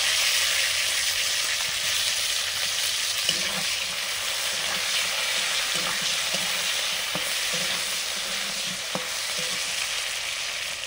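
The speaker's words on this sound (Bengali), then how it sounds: "এবার আমি টমেটো দিয়ে দিলাম।" Potatoes and freshly added tomatoes fry in hot oil with a cumin tempering, giving a steady, close sizzle with scattered clicks of stirring throughout and no talking.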